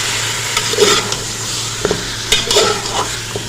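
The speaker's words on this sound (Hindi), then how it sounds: "इसको अब हमने बहुत अच्छे से भून लेना है अदरक लहसुन के साथ।" Mutton fries and sizzles in a pan with ginger-garlic paste while being stirred, with scraping clinks from a utensil at irregular moments, close up and without speech.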